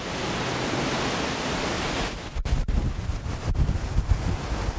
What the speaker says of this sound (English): And just some whipping gusty winds.